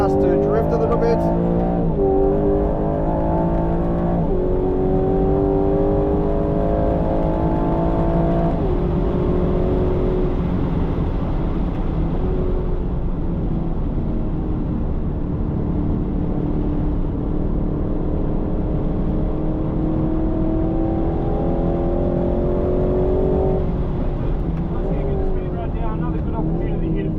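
A 2025 Aston Martin Vantage accelerates hard on a race track. Its engine roars loudly and continuously, the pitch climbing through each gear and dropping at shifts, and a rising note repeats near the end.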